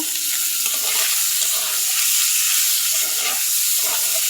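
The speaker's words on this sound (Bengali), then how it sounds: "ভাজা হয়েছে মাংস এইবার আমি যে সবজিগুলো ওইগুলো দিয়ে আবার একটু ভালো করে ভাজা নেব" Meat and vegetables sizzle in a pan in a home kitchen, a constant loud frying hiss with intermittent stirring scrapes and no talking.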